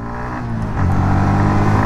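Motorcycle pulling away through first and second gear, a close engine drone that swells in loudness with rising revs partway through the short burst, no talk over it.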